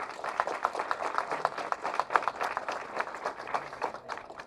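Applause from the audience at a movie pre-release press meet, fairly faint but steady, with distinct individual claps in a quick, continuous patter throughout.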